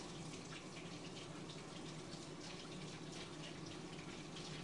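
Hands being washed under a running tap at a sink: a steady, fairly quiet rush of flowing water with faint splashing, continuous and unbroken, with no voices.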